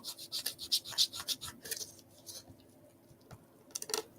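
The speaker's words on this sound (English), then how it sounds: "Rub off the excess glue here." Fingers rub off excess glue on junk journal paper, giving a quick run of soft, close, papery scrubbing strokes that thin out and pause before one last brisk rub.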